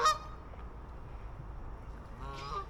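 Geese honking at Scarborough Mere, a short loud call at the start and another burst of honks near the end, over a steady outdoor background.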